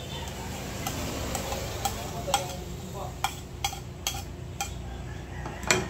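Banana heart fritter batter with garlic and onion is stirred in a bowl, a close, steady wet mixing sound punctuated by regular sharp taps and clicks of the utensil against the container, with faint background hum.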